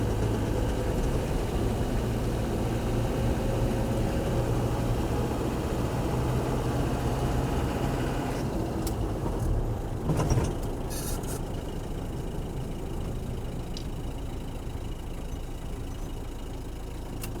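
A 1979 Toyota Land Cruiser FJ40 diesel engine driving, a steady low rumbling drone heard from inside the cab, continuous and even with a few faint rattles and clicks.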